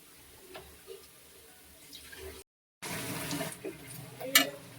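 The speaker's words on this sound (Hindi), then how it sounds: "और अब डाल देंगे पानी, क्योंकि ये गाढ़ा हो जाएगा।" Water is poured into a pan of Manchurian sauce as a brief, soft splashing pour, with a short gap of silence midway before the liquid sound resumes a little louder.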